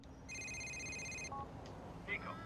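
A phone in Grand Theft Auto IV rings with a single electronic ring lasting about a second, followed by a short tone and faint chirps over a low steady background hum.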